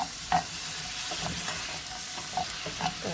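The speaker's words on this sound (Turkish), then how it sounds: "Böyle kavuracağız. Biraz kavrulsun." Onions and peppers sautéing in a pan, a steady soft sizzle with occasional stirring scrapes and clicks, close and fairly quiet, no talking.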